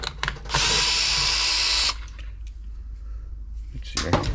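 A power screwdriver backing screws out of a Bissell steam mop under repair for a leak, one loud close whir lasting over a second between handling clicks and knocks, with some talk nearby.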